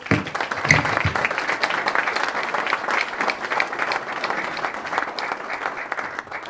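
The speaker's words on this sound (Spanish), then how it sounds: "considero oportuno que nos demos un fuerte aplauso" Sustained applause from a conference audience at a smart-meter event in Valdivia, dense steady clapping filling the room for several seconds at even loudness, with no talking over it.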